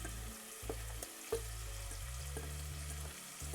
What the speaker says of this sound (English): now before the bottom of the pan gets a little bit too dark, we're going to go ahead and cook all of the onions in here.